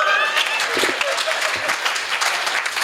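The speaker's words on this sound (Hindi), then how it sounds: "ताली तो जोर से बजाओ।" Audience at a Hindi comedy poetry gathering breaking into loud, steady applause that fills the whole stretch, with a voice faintly under the clapping.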